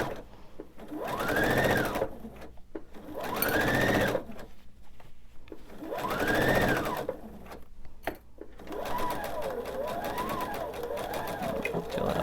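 Sewing machine stitching and backstitching a seam on a fitted crib sheet, running in several bursts of a few seconds each, separated by short pauses, with a faster, lighter patter near the end.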